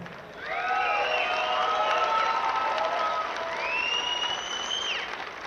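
A crowd at a Reno cage-fighting event cheers and applauds for the fighters, with whistles rising above a steady, full roar that holds for about five seconds.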